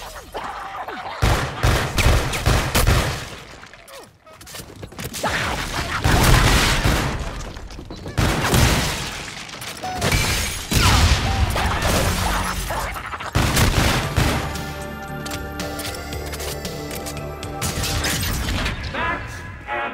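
Repeated grenade blasts and bursts of gunfire from the Zombies in Spaceland mode of a shooter game, loud and dense for most of the stretch, with booming impacts and rattling shots followed by a layer of sci-fi game tones and electronic effects.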